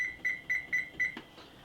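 A kitchen timer chirps four short, evenly spaced beeps while being set during homemade mozzarella making, followed by a soft click and faint background noise.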